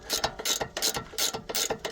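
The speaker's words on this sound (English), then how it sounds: "ratcheting it and lubricating it at the same time" A hand ratchet backs a nut off a bolt on an Audi S5, giving loud, close, repeated bursts of rapid pawl clicking in a steady back-and-forth cranking rhythm with no talk.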